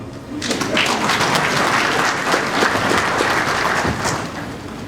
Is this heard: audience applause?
yes